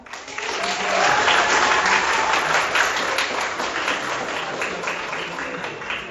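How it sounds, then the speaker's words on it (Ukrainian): Sustained audience applause at a Ukrainian school concert, steady dense clapping that builds in the first second and holds loud throughout. "Підтримайте наших талановитих учасників оплесками."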